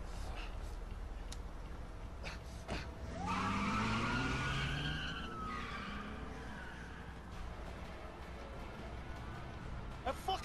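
A car in the video game A Way Out pulls away and skids, a tire squeal sweeping across the middle of the clip with engine noise under it, amid in-game voices and scattered impacts.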